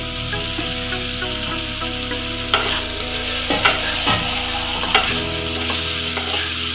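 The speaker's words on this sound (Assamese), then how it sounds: "এতিয়া মই ইয়াত ফ্ৰাই কৰি থোৱা আলু আৰু পটলখিনি দি দিম।" Fried potatoes and pointed gourd drop into a hot spiced pan, setting off a loud, steady sizzle with several sharp clatters and scrapes as they are stirred in.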